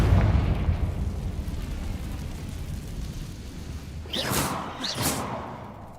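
In the video game Hogwarts Legacy, the Confringo fire spell lands with a rumbling boom that slowly fades, followed by two quick, sharp whooshing bursts near the end.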